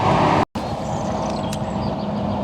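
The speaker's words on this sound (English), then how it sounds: "You can probably hear in the background the farmer out on his tractor." A farm tractor's heavy engine drones steadily nearby, a loud continuous rumble as it passes a garden, briefly cut by a short dropout.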